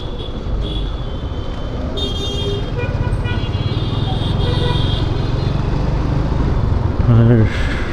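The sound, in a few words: road traffic jam with horns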